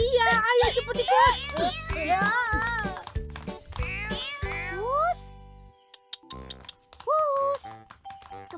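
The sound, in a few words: black cat meowing in a cartoon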